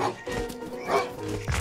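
Dogs bark in short, yipping bursts inside Zelda Breath of the Wild, with a few sharp barks and a whimper amid game noise and thuds.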